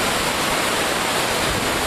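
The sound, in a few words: floodwater flowing over a stream bank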